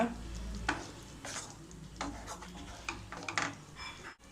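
Cashew paste being stirred into a chicken handi gravy in a pan, soft scraping stir strokes over a low sizzle, close and fairly quiet.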